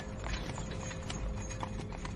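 Horses pull a carriage by night in a horror story, with steady rhythmic clip-clop hooves over a dense rumbling background that stays loud and constant throughout.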